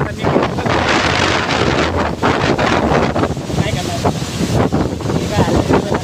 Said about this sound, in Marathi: आता पाऊस जोरात आलाय